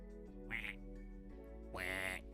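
A voice imitates a duck, producing two nasal quacks against a low steady background hum.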